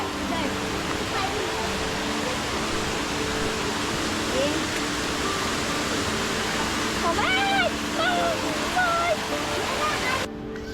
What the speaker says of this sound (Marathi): विभूती वॉटरफॉलला भरपूर पाणी आहे.